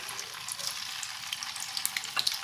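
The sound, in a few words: tofu frying in hot oil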